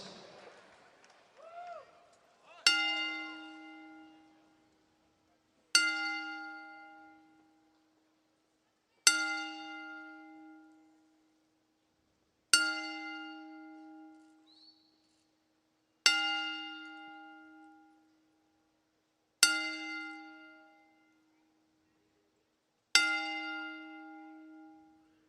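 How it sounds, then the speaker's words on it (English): Wrestling ring bell struck for a ten-bell salute at an NXT UK event: single clear metallic dings at slow, steady intervals, each ringing out and fading into near silence before the next, seven strikes here. "we honor the life of WWE Hall of Famer Mean Gene Okerlund with a 10-bell salute"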